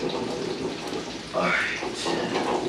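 Bacon sizzling in a hot pan while breakfast burritos are cooked, a steady crackling hiss that swells louder midway, with a voice speaking briefly over it.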